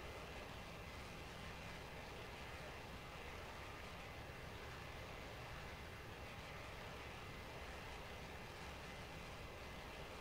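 Steady MiG-21 jet engine roar inside the Prepar3D flight simulator, a constant broadband drone at fairly low level with no pauses or voices.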